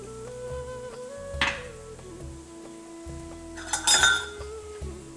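Whole cloves and a cinnamon stick drop into a pot, giving two brief clinks and rattles against metal over a steady low hum of background music.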